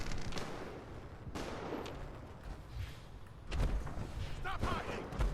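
A firework launcher fires repeatedly in the Fallout 76 video game, in Atlantic City, with sharp bursts standing out over a busy background of game sound and talk.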